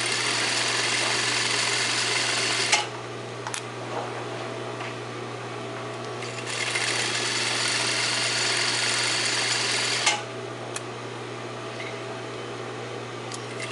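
A home sewing machine stitching a quarter-inch seam along the edge of the presser foot while making a shirt, its steady motor hum running in two long bursts with a brief pause between, close and alone.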